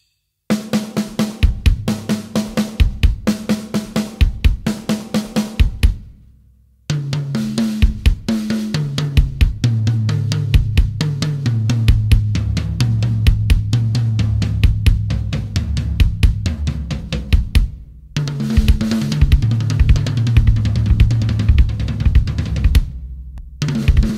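A drum kit plays a fast, repeating sextuplet pattern of snare double strokes (right-right-left-left) followed by two bass drum hits, loud and close, with two short pauses between phrases.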